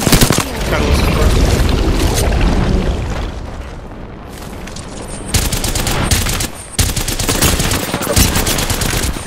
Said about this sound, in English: Still shoot through the wall.